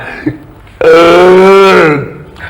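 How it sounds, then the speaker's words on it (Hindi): A man lets out one long, loud, voiced burp after eating, a rough, droning belch lasting over a second, with faint room sound on either side. "डकार तो लेने दो"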